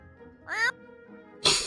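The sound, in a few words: person imitating a cat meow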